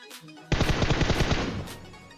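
A mobile shooter video game lets off a rapid burst of automatic gunfire while knocking out enemies, a loud, close rattle of shots lasting about a second before fading.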